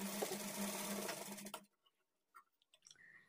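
A sewing machine runs fast for about a second and a half as it stitches cross-cut lining pieces of a blouse together, then stops abruptly, leaving a few soft handling clicks and rustles of fabric.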